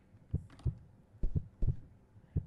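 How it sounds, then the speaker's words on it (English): A heartbeat in the horror video game Exhibit of Sorrows thumps in low, paired beats, four double pulses repeating steadily and fairly loud against a quiet background, with no talk. "Okay, the heartbeat's coming from over here"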